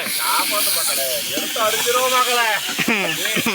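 Tomatoes hiss and sizzle as they land in a hot pan, a steady bright crackle heard up close beneath continuous talking.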